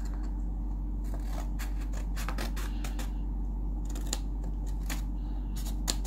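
Scissors snip through paper in a run of short, crisp cuts, some closely spaced and others spread apart, over a steady low background hum. There is no talking.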